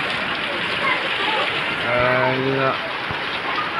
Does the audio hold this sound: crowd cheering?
no